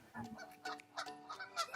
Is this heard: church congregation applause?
no